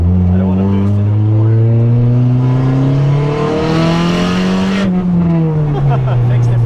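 Stock Honda Civic fitted with a boost setup, its engine droning loud and close as the pitch climbs steadily under load and then falls back, with a voice talking over it.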